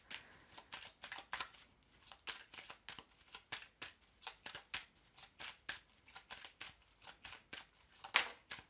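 Tarot cards shuffled by hand for a weekend reading, a steady run of crisp riffling bursts repeating roughly every third of a second, close and fairly quiet, with no talking.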